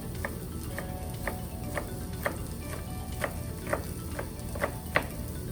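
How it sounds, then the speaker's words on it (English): A knife slicing green beans on a cutting board gives a steady series of about a dozen light, crisp taps at a regular pace, close by over a low background hum. "I'm just going to give these a quick little slice here"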